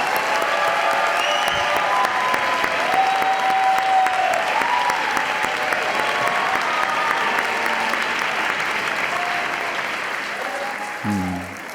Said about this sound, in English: Let's give another big round of applause to President Now Kimi and Continental Leader Dr.